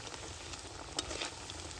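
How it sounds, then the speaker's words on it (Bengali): Steady, soft sizzling of carrot sweets frying in hot oil, a continuous crackle with one brief sharper pop partway through; no voices. "উল্টে পাল্টে ভালো করে ভেজে নিয়েছি"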